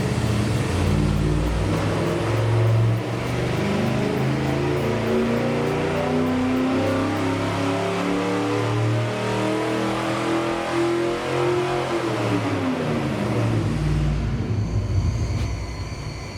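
A car engine on a dynamometer revs steadily and loudly as a full-throttle pull climbs through the rpm range, then drops off near the end, with no talking.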